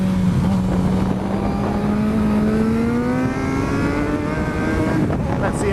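A motorcycle running on a track during a warm-up lap gives a loud, close, continuous engine drone that rises slowly in pitch as it goes, with no clear talking.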